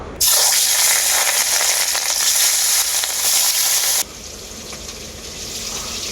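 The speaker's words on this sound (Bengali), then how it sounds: "তেলটা খুব ভালোভাবে গরম হয়ে গেছে তেলে আমি মাছগুলো ভেজে নেব" Rohu fish pieces dropped into a kadai of well-heated oil give a loud, bright, crackling sizzle that surges at once, holds steady for several seconds, then drops to a softer frying hiss.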